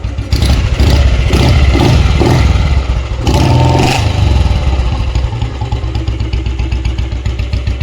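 A modified Royal Enfield Bullet motorcycle runs close and loud after starting, its engine thumping in a steady beat with a rough burst of revving partway through before it settles back to a lumpy idle.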